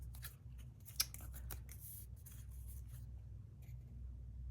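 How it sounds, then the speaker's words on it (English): Scissors snipping the paper corners of a handmade shabby chic stationery envelope for a journal, a few quiet, close crisp cuts in fast succession over a low steady hum. "you're literally just going to cut the corners."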